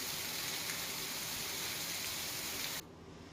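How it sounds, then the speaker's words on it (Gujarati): Heavy rain driven by strong wind in Lathi, Gujarat, a dense steady hiss of downpour that fills the clip and then drops sharply quieter near the end, with no voices. "આ તરફ લાઠીમાં ભારે પવન સાથે ધોધમાર વરસાદ વરસ્યો."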